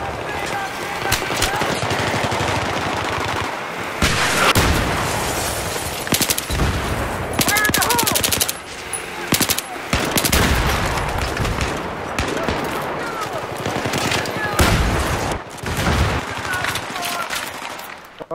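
Rapid bursts of automatic gunfire in a Battlefield 3 multiplayer team deathmatch, loud and close, repeating in volleys throughout with short pauses between them.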